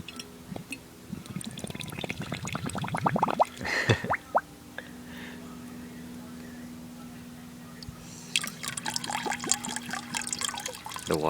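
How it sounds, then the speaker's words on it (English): Water is poured into an amber glass bottle, filled up to the shoulder, as a close, splashing stream that stops midway and then resumes with a brighter trickle near the end. "I'm just going to fill up the water right to the shoulder."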